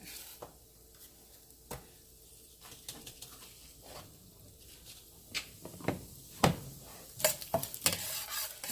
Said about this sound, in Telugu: బాగా ఎర్రగా వేగాలి.